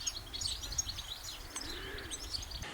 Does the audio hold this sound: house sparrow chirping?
yes